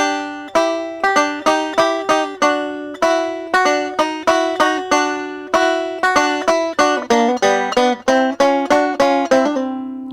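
A banjo picks a quick, bright run of plucked notes with a pull-off, in a steady rolling rhythm, close and clear, with no talking, in a song break.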